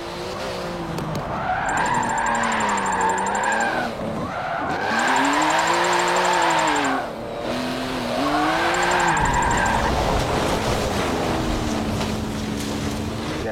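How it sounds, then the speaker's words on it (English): A Porsche GT2 RS in a racing video game, on the Maple Valley track, revs up and down in repeated surges with tire skidding, loud and close. "we're in Maple Valley using the Porsche GT2 RS"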